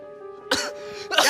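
Two short, loud bursts of coughing, close by, the first at mid-clip and a second near the end, over a faint steady hum.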